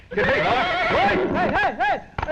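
Horse neighing close and loud, a quavering whinny with several rising-falling pulses, ending in a short snort.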